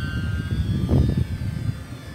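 E-Flite UMX Gee Bee R2 micro RC airplane flying, a faint high electric whine over broadband outdoor noise with a brief louder swell midway.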